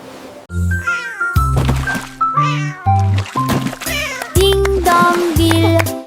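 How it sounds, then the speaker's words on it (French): Cartoon cat meowing in a children's nursery rhyme song, loud repeated meows over bright music, each call clear and close. "S'écria le chat"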